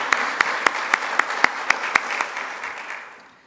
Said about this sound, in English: we want to give them a round of applause for helping us with that